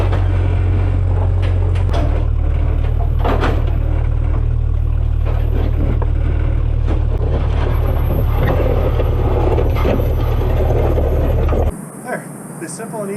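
An old forward cab Jeep idling and creeping forward to pull its cab off, a steady low engine rumble with clanks and creaks of metal, speech over it, cutting out abruptly near the end.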